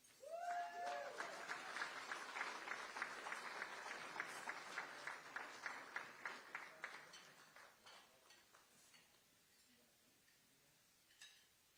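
Gala guests applaud student athletes at a soccer foundation event, a brief vocal whoop opening a run of quick, distinct claps that gradually thin and fade, leaving near quiet with one late clap.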